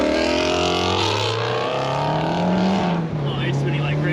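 A Honda Civic Si on a wet road with its engine revving hard and rising in pitch while the wheels spin, loud and close, with people talking over it.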